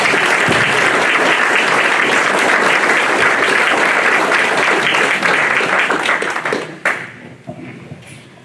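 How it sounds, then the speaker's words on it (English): Loud, steady applause from an audience at a supervisors candidate forum, a dense sustained round of clapping that holds for several seconds before tapering off with a few last scattered claps. "How about a round of applause for all of our candidates?"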